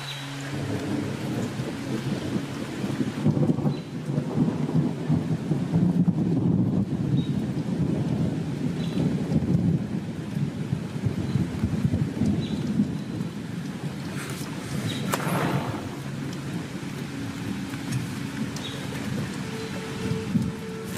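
Real rain pours steadily through an outdoor filmed scene from the series Coach, with deep rumbles of thunder rolling underneath throughout and no voices.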